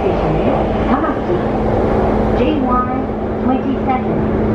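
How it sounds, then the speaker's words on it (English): Rumbling interior of a Japanese commuter train running between Shibuya and Tokyo Station, a steady loud drone with rising and falling motor whine, and people talking faintly beneath it. "It'll be a 33-minute train ride to Tokyo Station."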